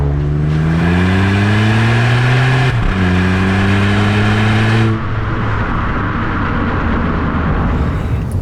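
A 1.0-litre turbo car engine revs up loudly with a rising exhaust note, drops briefly as it shifts, climbs again, then settles into a rough, steady rumble.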